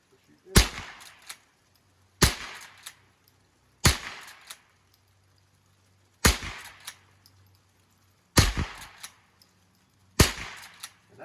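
Henry and Ruger Wrangler .22 rifles firing at a pop can outdoors: six sharp, loud shots spaced a second or two apart, each cracking and then fading quickly, with no talk between them.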